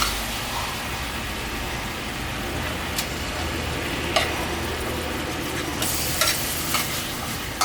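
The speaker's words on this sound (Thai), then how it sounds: "แล้วเดี๋ยวเราจะเอาหมูสับ ลงไป ลวนก่อนนะครับ" Minced pork stir-fried with a whole packet of instant noodle seasoning for Thai mee Takhu, a steady close sizzle with occasional sharp scrapes and clicks of the spatula against the pan, no voices.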